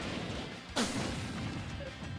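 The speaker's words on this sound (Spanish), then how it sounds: "La explosión de la bomba permite que entonces él se vaya." A Samus bomb explodes during a Super Smash Bros match against Bowser, a single sharp burst standing out briefly over steady background game noise.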